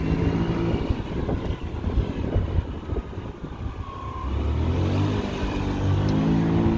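A Honda Dio AF68 fuel-injected four-stroke scooter engine revs and accelerates with a steady droning hum that climbs in pitch, accompanied by rushing wind noise.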